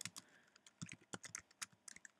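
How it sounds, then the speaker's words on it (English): Quick, uneven bursts of keyboard typing, close and fairly quiet, with clustered key clicks and short pauses between them. "Sorry if I'm typing slow."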